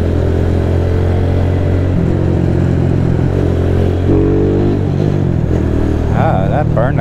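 Motorcycle engine with a slipping, burning clutch under way, its steady loud drone and shifting whine continuous throughout with wind rush, no talk.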